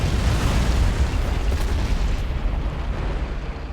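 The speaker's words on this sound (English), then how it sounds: "Soviet mortars firing GPS-guided rounds." Soviet mortar rounds exploding in Men of War: Assault Squad during the 1942 Battle of Stalingrad: a loud, sustained roar of blasts and rumbling debris that fills the whole stretch and slowly eases off toward the end.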